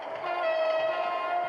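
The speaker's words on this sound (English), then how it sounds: "so I'm going to make sure to blow the horn." Horn of an electric commuter train in Trainz Simulator 2, a single sustained multi-tone blast held steadily for over a second, loud and close over faint rail rumble.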